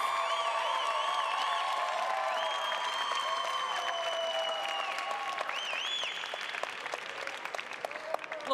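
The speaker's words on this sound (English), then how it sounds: "Please join me in a round of applause for the Master of Science in Public Policy and Management Data Analytics" A commencement ceremony crowd applauds graduating master's students, a steady, fairly distant wash of clapping with scattered whoops and whistles on top.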